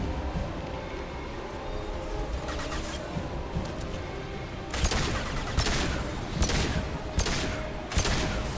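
Submachine gun fire in the Mass Effect 2 Legendary Edition game: a busy stretch of game sound, then several loud, sharp bursts of rapid shots in the second half. No one speaks.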